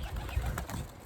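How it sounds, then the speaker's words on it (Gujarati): Pigeons in a loft cooing, a low, faint, brief murmur heard close by against a quiet background. "જો આવી ગયા એક બે કબૂતર"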